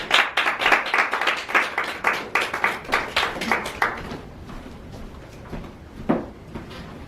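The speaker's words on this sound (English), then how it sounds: "if everyone will give a round of applause for Maurice" Applause from an audience at a Toastmasters club meeting, a burst of steady clapping for a few seconds that thins out and fades, with a few scattered claps near the end.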